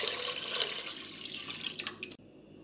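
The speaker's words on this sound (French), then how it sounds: "dans une casserole, je vais mettre 3 litres d'eau" Water poured into a saucepan to make homemade laundry soap with Marseille soap, a steady hissing, splashing stream that ends abruptly near the close, leaving quiet room tone, fairly close with no voice.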